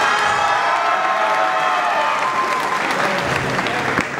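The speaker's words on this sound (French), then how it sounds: "Vous pouvez l'applaudir" Crowd at a Pancrace combat-sport title event applauding and cheering, dense loud clapping with whoops and shouts throughout, steady and close for about four seconds.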